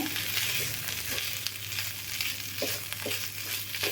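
Potatoes sizzle steadily in a hot frying pan while a spatula presses and scrapes them soft, giving a few distinct stirring strokes over the constant frying hiss.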